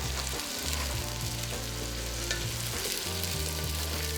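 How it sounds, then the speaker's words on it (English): Potatoes sizzle in oil alongside softened onions in a pan, with a dense, continuous frying crackle and faint stirring scrapes at close range, and no talk. "We're gonna go in and add in our potatoes now that our onions have softened."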